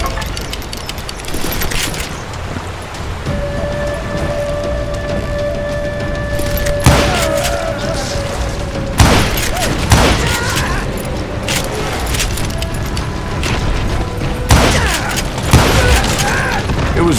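Gunfire in the Western shooter game Call of Juarez Gunslinger, set in rugged Chiricahua mountain country: repeated loud shots and bursts over a dense battle soundscape, with a narrator's voice talking over it.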